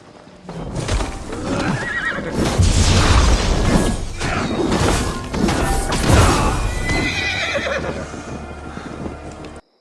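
Horses whinny loudly and hooves clatter in a siege battle in Assassin's Creed Valhalla, several neighs rising over heavy galloping and booming crashes, continuous and close.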